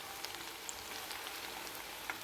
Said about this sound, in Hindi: हाथ से पकोड़े डालेंगे, चम्मच से नहीं डालेंगे।